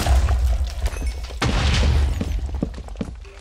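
Explosions in the video game Dissent hit as deep booms with crackling, shattering debris, one big blast near the middle followed by scattered smaller bursts and thuds, loud and close with no talk.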